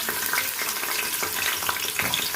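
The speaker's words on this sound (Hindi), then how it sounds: "घी हो चुका है हमारा गर्म। अब मैं इसमें डालूंगी प्याज।" Onions frying in hot ghee for aloo gosht, a busy close sizzle and crackle with bursts of spattering and stirring, no talk heard.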